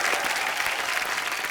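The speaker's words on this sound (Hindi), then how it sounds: "एक बार ऋषि सर और नीतू मैम के लिए जोरदार तालियां हो जाएं।" A studio audience on a Hindi comedy talk show bursts into dense, sustained applause for Rishi Kapoor and Neetu Kapoor, a steady wash of clapping with no pauses.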